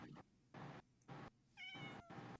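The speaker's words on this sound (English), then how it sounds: "Yep, that's a wild cat." Ocelot, a wild cat in the Minecraft video game, meowing in several short, fairly faint cries spaced across a couple of seconds, with little else around them.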